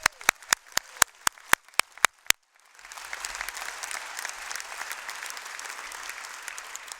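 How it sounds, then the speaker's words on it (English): A crowd at a union health conference bursts into loud, sustained applause after a run of sharp separate claps, the many hands blending into a dense roar that stays steady to the end. "let's give them a huge round of applause"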